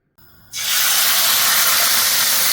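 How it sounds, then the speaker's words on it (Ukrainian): A faint hum, then a sudden loud sizzle as salted, peppered chicken fillet hits a hot pan, settling into a steady, intense frying hiss close by. "солити, перчити і на гарячу сковорідку"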